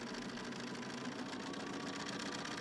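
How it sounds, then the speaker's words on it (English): A sewing machine stitches scrap quilt fabric a quarter inch from a marked line, giving a steady, fast mechanical whir that runs unbroken and fairly close throughout, with no voices. "I'm going to sew a 1/4 inch away from that line"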